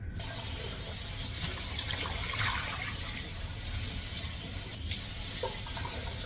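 Liquid pours steadily into a cooking pot in a home kitchen, a soft continuous splashing rush that stays faint and even throughout, with no talk over it.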